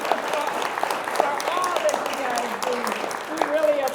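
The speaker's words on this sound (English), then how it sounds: "we owe John and the staff a big round of applause" A crowd at an annual meeting keynote claps steadily for John and the staff, the round of applause filling the room while voices carry over it.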